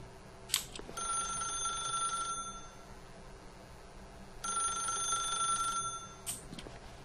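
Telephone ringing in the video game The Stanley Parable: two long bursts of an old-style electronic bell ring with a pause between, moderately loud over low background hum.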